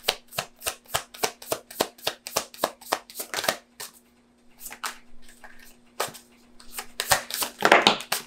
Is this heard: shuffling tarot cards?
yes